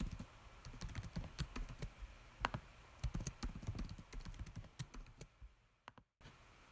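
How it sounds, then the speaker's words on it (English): A password typed on a computer keyboard, quiet quick keystrokes in an uneven run that slows and stops near the end. "I'm going to enter my password"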